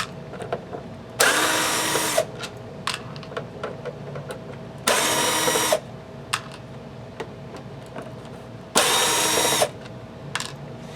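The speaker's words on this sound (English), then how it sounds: "But we're going to just remove these Phillips head screws." A power screwdriver removes Phillips head screws from an in-ear monitor mixer unit in three separate short bursts of whirring, each about a second long, with faint clicks and handling noises between them in a quiet room.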